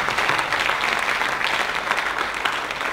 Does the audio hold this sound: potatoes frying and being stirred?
no